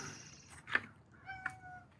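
A cat meows a few short times at close range, soft calls over a quiet indoor background.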